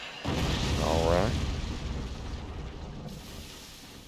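Cannons boom in the video game Forts, a heavy blast with a rising whistle of a shell, then a long rumbling tail, with a commentator talking over it.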